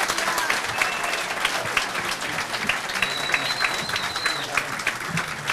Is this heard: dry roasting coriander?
no